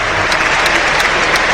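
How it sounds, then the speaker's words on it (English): A stadium crowd at a Brentford football match against Brighton applauds steadily, a dense continuous clatter of clapping filling the ground with a few louder claps standing out. "The applause you can hear ringing round this stadium"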